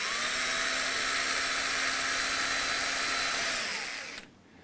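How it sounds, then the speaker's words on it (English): A hand drill bores a 2 mm hole into a flat piece of tusk, a steady high whirring drone that runs close and even for about four seconds before cutting off abruptly. "let's drill the 2 mil hole"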